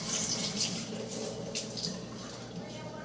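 Water runs steadily from a tap, pouring and splashing into a container at close range, with some faint background noise.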